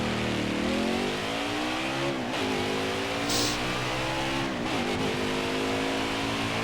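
Race car engines roar and rev in NASCAR Heat 5, a continuous loud drone with rising and falling pitch as cars accelerate and shift, with a brief tire squeal midway and no talking.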